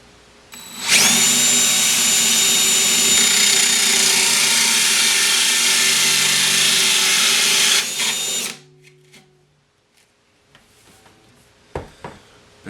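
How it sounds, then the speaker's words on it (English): A power drill fitted with a 1 3/4 inch hole saw cuts through an acoustic guitar body, a loud steady whining drone lasting about eight seconds before spinning down, followed by quiet clatter and a few knocks. "I've got my 1 3/4 inch hole saw bit in place"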